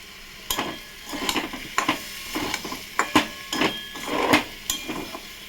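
Vegetable curry stirred in a pan, a spoon scraping and knocking against the metal in a series of irregular close strokes over a faint sizzle, with no talk.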